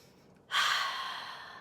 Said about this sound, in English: So just take a moment, take a nice deep breath.